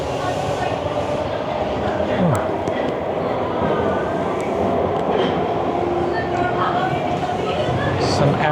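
Toronto subway train riding between stations, a steady loud rumble of wheels and car noise fills the cabin throughout with faint squeals, and a voice speaks over it.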